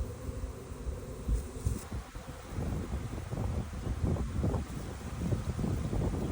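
A honey bee swarm buzzes steadily and close while bees fan and trail toward the queen during a bare-hands swarm capture, with wind rumbling across the microphone and no talking.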